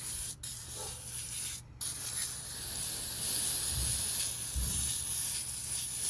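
Cleaner sprayed heavily onto the greasy, grime-caked underside of an old ranch vehicle. It gives a steady, close hiss with brief pauses and a couple of faint low knocks, and no talking.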